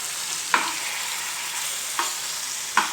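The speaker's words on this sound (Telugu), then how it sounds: "మనకి పెనం బాగా కాగింది కదా, అందుకే బాగా తిరిగేస్తే వస్తున్నాయి" Ayala fish fry on a very hot pan, with a steady sizzle underneath three short scraping clinks as the fish is turned, no talking.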